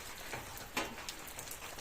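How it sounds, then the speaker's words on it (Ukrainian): Rain falling outdoors near a closed garage at a country home, a soft, steady patter with a few sharper drops, faint and distant with no one talking. "дивіться, який дощ пішов"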